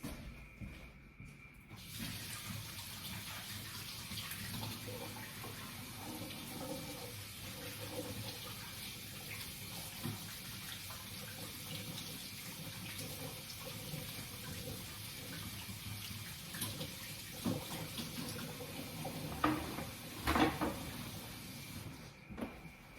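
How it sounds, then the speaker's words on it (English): Hands are washed under a running kitchen tap, a faint, steady water flow persisting throughout with occasional splashes and soft knocks near the end. "wash your hands"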